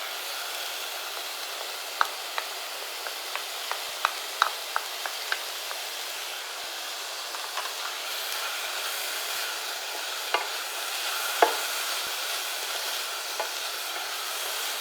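Moringa leaves stirred in a frying pan, a steady soft sizzle with scattered scraping clicks from the spatula at an irregular rhythm, close and fairly quiet, no voices.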